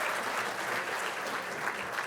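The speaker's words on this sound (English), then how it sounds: "Let's give them all a big round of applause" Steady applause from a banquet crowd at a sports hall of fame dinner, dense and continuous clapping that stays even and fairly close for the whole stretch.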